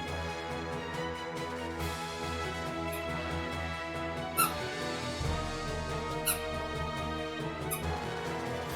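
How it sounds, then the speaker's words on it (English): A dog toy squeaks a few times in brief, sharp bursts against steady video game music from Final Fantasy 6 Pixel Remaster. "You guys may hear the occasional squeak of the dog toy."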